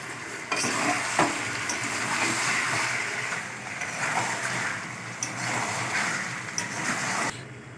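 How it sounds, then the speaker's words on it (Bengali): Chicken and chopped tomatoes sizzle and fry in a pan while being stirred, a steady close hiss with scraping strokes and small clatters running throughout without voices. "টমেটো কুচি দিয়ে ভালো করে আর একটু কষিয়ে নেব।"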